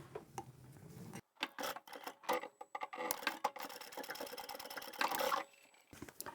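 A sewing machine stitches a two-tone leather and vinyl patchwork zipper pouch in quick mechanical bursts separated by short pauses, close and clear with no talking.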